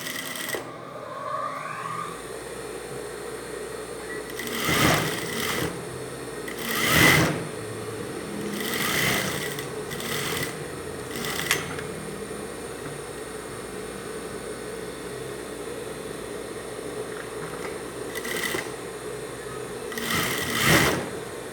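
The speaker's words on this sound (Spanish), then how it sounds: "Entonces vamos a sobrepisarlo para que quede bien asentadito." Sewing machine topstitching a seam on women's boxer shorts: a steady, close mechanical whir running throughout, with a few louder surges of stitching.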